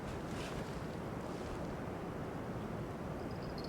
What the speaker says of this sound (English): you can hear the waves breaking